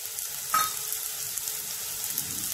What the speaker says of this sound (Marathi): हे सगळं आपल्याला गॅस बारीक करून छान परतून घ्यायचं आहे.